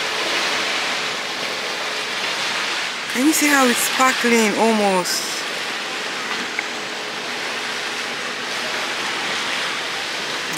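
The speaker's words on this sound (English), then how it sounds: "Like, the waves crashing." Ocean waves wash steadily in a broad, constant roar along the shore at sunset in Lagos, Nigeria, with someone speaking briefly partway through over the surf.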